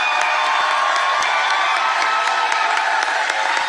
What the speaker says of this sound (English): an enthusiastic crowd of supporters welcomed him to the East Portland Community Center